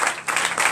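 Congregation at a night deliverance and prophecy church service in Benin breaks into brief bursts of clapping, loud and close, swelling in short pulses.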